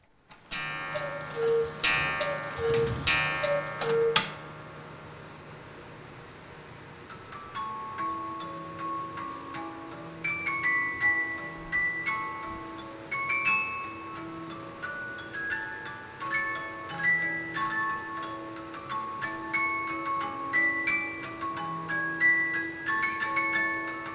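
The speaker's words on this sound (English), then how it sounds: "Isn't that a wonderful sound? Such a sound you only get from a big cuckoo clock." A big Black Forest cuckoo clock with dancing figures plays bright chimes and a music-box style tune in layered tones, starting with a loud burst of ringing bells, then a steady melodic chiming.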